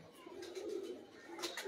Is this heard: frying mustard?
no